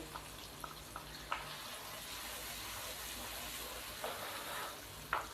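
Chopped tomatoes and green chillies sizzle in a pan for an aloo lobia salan: a faint, steady frying hiss broken by a few small pops and clicks.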